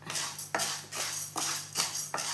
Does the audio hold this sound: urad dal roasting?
yes